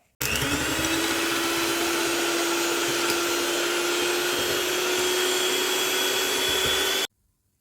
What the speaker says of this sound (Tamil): முதல்ல நாங்கள் இந்த முட்டை வெள்ளைக்கருவை அடிச்செடுத்து கொள்ள போகிறோம்